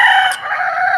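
A chicken lets out a loud, close, drawn-out crowing call that fills the whole moment, harsh and strained, with no talking over it.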